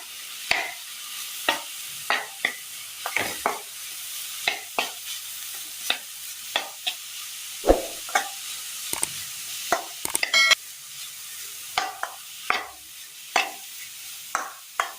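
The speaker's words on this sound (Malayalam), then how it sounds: "ഗരം മസാല ഒരു 1/4 സ്പൂണ്, മീറ്റ് മസാല 1 സ്പൂണ് എന്നിവ ചേർത്ത് കൊടുത്ത് നന്നായി ഒന്ന് ഇളക്കിയെടുക്കാം" Garam masala and meat masala being stirred into a frying pan, with a spoon scraping in regular strokes every second or so over a soft, steady sizzle.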